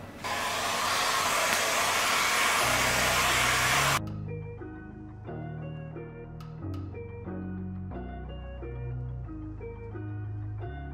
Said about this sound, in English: now we have to apply some heat on the top corner and then twist a little bit, giving the shape